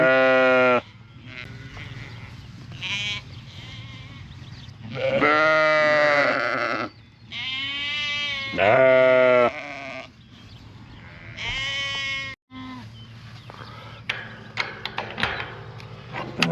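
Several sheep bleat loudly and close by, long wavering cries in overlapping bursts separated by short pauses, with a clunk and rustling at the end.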